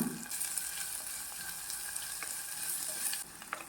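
Chopped onion and slit green chillies sautéing in a pan for a fried potato curry, a steady bright sizzle with a few stirring scrapes, close and without speech.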